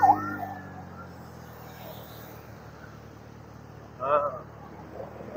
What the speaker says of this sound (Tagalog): may wangwang na.